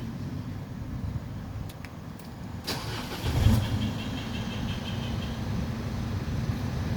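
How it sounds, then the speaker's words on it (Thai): Isuzu All New D-Max diesel engine starting with a push button: a few faint clicks, then the starter catches and the engine fires and settles into a steady, close idle. "นี่ก็จะเป็นการสตาร์ทนะครับ"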